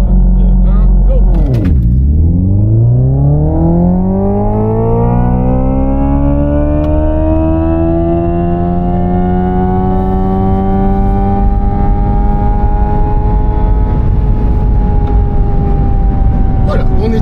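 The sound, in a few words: Hyundai Ioniq 5 N electric car accelerating hard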